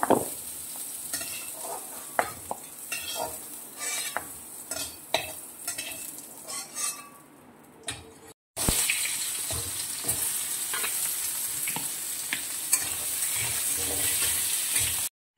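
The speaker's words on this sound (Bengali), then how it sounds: "আলু আর এই ডাঁটাগুলো সামান্য পরিমাণে আমি নুন আর হলুদ দিয়ে ভেজে নেব।" Potatoes and vegetable stalks fry with salt and turmeric in a pan, with clattering stirring strokes over a sizzle, then a brief break before a louder, constant hiss of frying.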